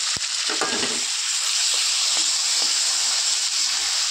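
Olives frying in a pan with cumin and coriander powder for a sweet pickle, a loud, steady hiss of hot oil close up, with a few brief spatula knocks early on and no talking.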